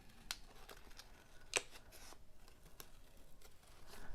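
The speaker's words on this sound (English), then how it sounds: "My scissors with my right hand are just like up and down, but I control the movement of the paper" Scissors snip through a Halloween paper napkin in small, quick rough cuts, close and quiet, with sharp irregular clicks and light paper rustle and no talking.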